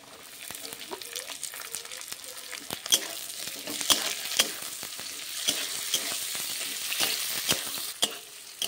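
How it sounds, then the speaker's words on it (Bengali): Chopped green chili, beans, capsicum and carrot frying together in a pan, a busy, steady sizzle broken by frequent clicks and scrapes of a spatula stirring up close. "একই সঙ্গে দিয়ে কিন্তু ভালো করে ভেজে নেব।"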